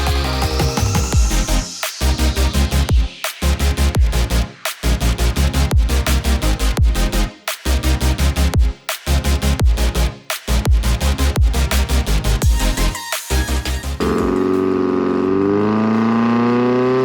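A GR86/BRZ race car engine fitted with an SME 4-2-1 header, revving hard through repeated loud pulls with brief gaps at each gear change, then dropping to a lower drone at the end.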